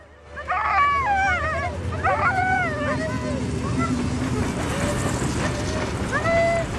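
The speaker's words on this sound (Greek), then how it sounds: "These are wonderful dogs. What kind are they? Alaskan Huskies." Alaskan Husky sled dogs, a team of eleven, yip, whine and bark excitedly in a busy chorus close by, with calls overlapping throughout amid background voices.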